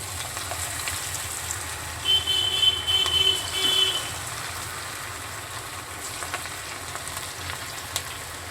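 Pieces of chicken pakodi fry in hot oil, giving an even, continuous sizzle with a slightly louder burst of crackling as more pieces drop in, and a faint electronic beeping in the background.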